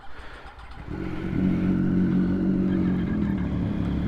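Yamaha R1 sport motorcycle engine starting and revving up, a loud close rumble that builds after a second and holds steady at a high drone, with no talking.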